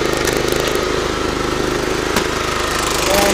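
A small tractor engine idles close by with a steady, even mid-pitched rumble and one brief knock partway through.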